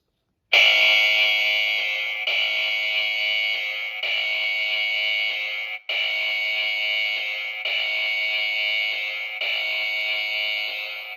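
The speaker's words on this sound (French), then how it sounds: "moi, je trouve que l'alarme n'est pas assez puissante, honnêtement" A home security alarm blares after a door opening is simulated, a loud, shrill electronic buzzing tone that repeats in long, even bursts separated by brief breaks, close and continuous with no talking.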